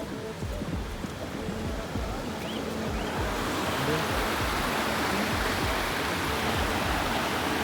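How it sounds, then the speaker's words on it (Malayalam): Steady rushing water roars throughout, a dense broadband wash that grows louder and fuller midway, like a nearby waterfall with no other sounds standing out. "നമ്മള് വെള്ളച്ചാട്ടത്തിന്റെ അടുത്തേക്ക് എത്താറേ"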